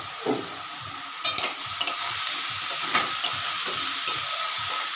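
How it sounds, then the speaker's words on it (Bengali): Ridge gourd and potato sizzle in a pan while a utensil stirs them, giving a continuous hiss of frying with repeated scraping and clacking strokes close by. "এটাকে ভালো করে নেড়ে দেব"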